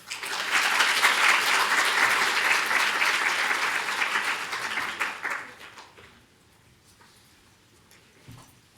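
An audience bursts into loud, sustained applause to welcome a speaker, a dense clapping roar that holds for about five seconds before fading into scattered claps and quiet.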